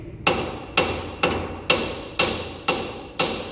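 Band iron struck with a hammer on a workbench, seven sharp metallic blows at a steady, even rhythm, each ringing briefly before the next, loud and close with no talking.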